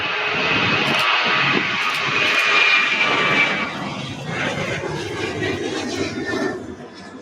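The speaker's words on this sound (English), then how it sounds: "That is our flight out to Atlanta Hartsfield Jackson International Airport. ATL, if anybody does not know. Delta 737-900." A Delta Boeing 737-900 jet takes off at Louisville airport with a loud, steady engine roar and a high whine that lessens and grows rougher as the aircraft pulls away.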